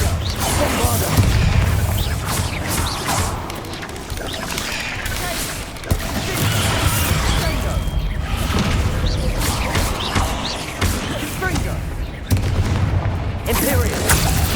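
In Hogwarts Legacy combat, a Bombarda explosion spell booms amid a dense, continuous clatter of crashes, mechanical rumbling and spell impacts, with sharp hits near six and twelve seconds and a voice speaking intermittently over the din.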